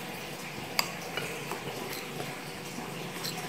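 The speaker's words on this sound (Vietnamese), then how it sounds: "cái nước ướp gà này các bạn hòa với cái bột nhé, cho nó thành cái hỗn hợp sền sệt đi" Chicken marinade being stirred into frying flour to make a thick batter for KFC-style fried chicken, with soft, steady wet scraping and a couple of faint utensil clicks, close and quiet, with no talking.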